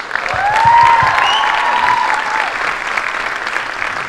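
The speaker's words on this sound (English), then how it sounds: "Give them another round of applause" A concert audience gives a winter school concert's symphonic band a round of applause, a full sustained burst of clapping that swells early and then holds steady, with a faint voice or cheer rising briefly above it.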